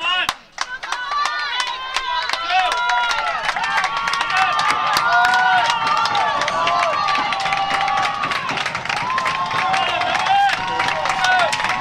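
Rugby crowd at a Belmont boys varsity match in a MIAA Division I final, cheering and shouting continuously at a loud, steady level after a sharp opening hit, with individual voices rising above the mass.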